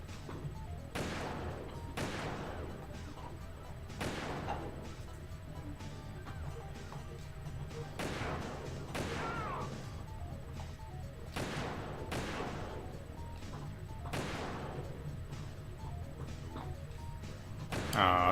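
Gunfire in Metal Gear Solid 2: Substance on PlayStation 2: about a dozen sharp shots at uneven intervals over a low, steady game background, with no talking.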